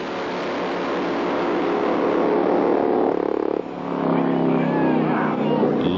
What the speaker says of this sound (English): Still running very heavy loads of nitromethane.